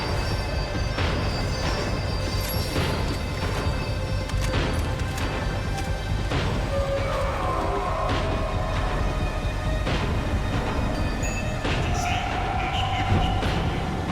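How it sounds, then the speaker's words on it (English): Tram in the video game Max Payne 3 slowing down, a steady loud rumble of rail travel with rhythmic clacking and scattered metallic clanks and squeals running throughout, with no talk. "The tram was slowing down, and I'd only just gotten on board."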